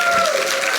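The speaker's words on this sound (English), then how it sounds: "Go ahead, you can clap." An audience claps at a church gathering, a dense, steady wash of applause that stays loud and close through the brief moment with no pause.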